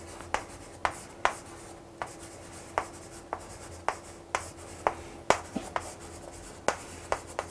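Writing on a board during an English grammar lesson, a steady series of quick tapping strokes and scratches at a brisk, fairly regular pace, close and quiet with no voice over it.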